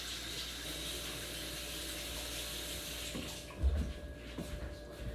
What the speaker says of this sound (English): And you just rinse this egg under clean water quick.